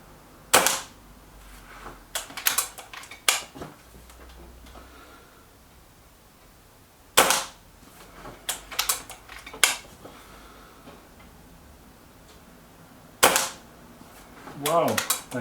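A Kral NP-03 air rifle firing JSB Express pellets, heard as a series of sharp, close cracks spaced several seconds apart, with a few smaller clicks and bits of handling noise in between.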